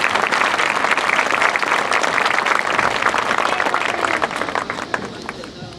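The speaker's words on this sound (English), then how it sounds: "so clap for them, please." A large audience at a football fan event applauds loudly and continuously, a dense roar of clapping with crowd murmur that tapers slightly toward the end.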